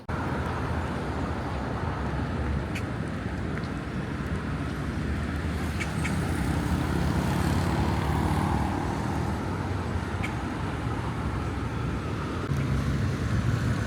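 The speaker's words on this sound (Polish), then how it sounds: "Na ulicach jest bardzo dużo ciężarówek, autobusów, które są nieprzeciętnie głośne" A busy Panama city street roars with dense, steady traffic of loud trucks and buses, a continuous heavy rumble with passing engines, no voices.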